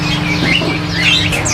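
A caged songbird chirps close and loud in quick, bright bursts over a steady low hum.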